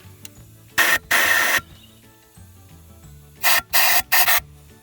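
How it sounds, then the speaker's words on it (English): Compressed air from an air compressor blows out holes in an Audi 1.8t intake manifold, with five loud, sharp hissing blasts in two groups and quiet pauses between them. "We're going to blow these holes out here with the compressor."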